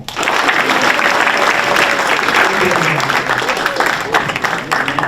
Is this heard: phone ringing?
no